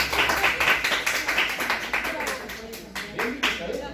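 A classroom of students claps for a classmate, a short run of quick, fairly close hand claps that thin out into a few scattered claps, with a voice talking over them.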